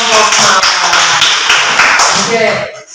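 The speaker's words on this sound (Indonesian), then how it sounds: "Kita beri tepuk tangan untuk kelompok" A class applauds a student group in a classroom, dense sustained clapping filling nearly all three seconds at steady loudness before cutting off abruptly near the end, with voices mixed in.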